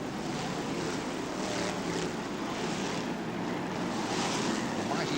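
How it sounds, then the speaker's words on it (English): Formula 1 stock car racing engines at Northampton Stadium in 1982, a continuous broad roar of several powerful cars thundering past, steady and loud throughout with no clear gaps. "Roar of these really powerful engines as they come thundering through, shakes the commentator's box in front of us"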